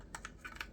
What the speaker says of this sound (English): you just click it in like that, so it's nice and easy. Click it together.